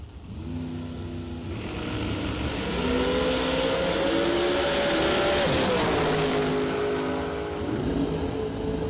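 A Miller chassis dragster roars down a drag strip, its engine note rising steadily as it builds speed, then falling away, over a loud, constant background of noise.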